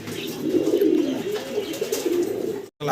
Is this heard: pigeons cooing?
yes